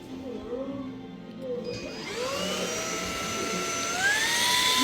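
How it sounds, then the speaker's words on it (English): A TMA 400W 30kPa stick vacuum cleaner switches on about two seconds in. Its motor rises into a steady, loud whine that climbs in pitch and keeps running to the end, after quieter background noise with some faint voice. "on Friday, I got this stick vacuum. Let's try it."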